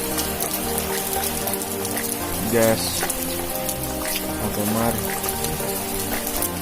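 Heavy rain pours steadily onto surfaces during a mountain hike on Mount Cikuray, a dense constant patter close by, with someone briefly talking over it.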